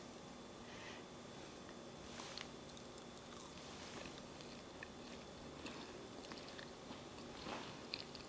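Soft, close chewing and biting on a warm, chewy eggless, dairy-free oatmeal cookie, with faint crunchy clicks scattered over a quiet room tone and no talking.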